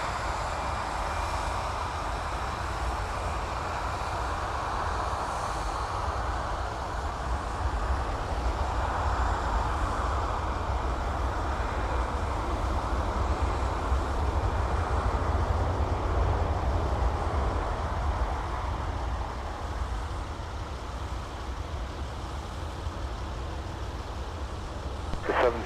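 An airliner taking off from runway 30 right at Minneapolis–Saint Paul airport in freezing winter weather, heard as a distant, steady roar that swells toward the middle and then slowly fades.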